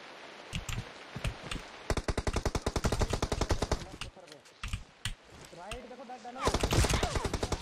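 Gunfire from an M4 rifle and AWM sniper in a PUBG Mobile match: rapid automatic bursts and sharp single shots, repeated in clusters, with a player talking over them.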